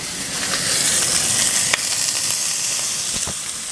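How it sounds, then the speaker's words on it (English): Pork tenderloin kabobs sizzling steadily as they cook, a dense, continuous frying hiss heard close up with a few faint pops and clicks. "while my meat is cooking"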